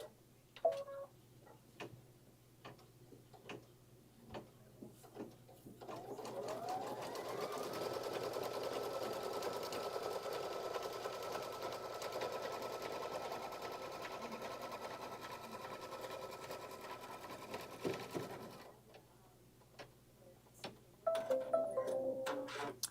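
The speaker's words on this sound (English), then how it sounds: "Now it's going to run a stitch from this corner, from this corner and down to secure." An embroidery machine running a securing stitch across a corner gives a steady, fast mechanical whirring and ticking for about twelve seconds, framed by quieter clicks and handling noise before and after.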